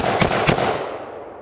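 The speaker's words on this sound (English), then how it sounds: "Let's try that somewhat janky surplus mag in the ARX," An ARX rifle loaded with a surplus magazine fires two loud, sharp shots in quick succession outdoors, each followed by a fading echo.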